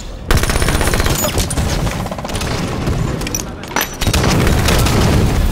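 Frag grenade explosions and gunfire in the game Halo 5 make a loud, dense barrage of rapid shots and heavy booms that continues almost without pause, with a brief dip before it surges again.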